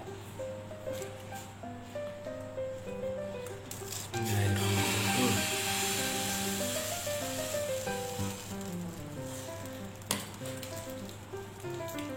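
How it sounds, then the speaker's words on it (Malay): Lempeng batter sizzles in a pan, a soft steady hiss that swells as the batter goes in around the middle, with quiet background music underneath. "Sekarang tinggal nak menggoreng."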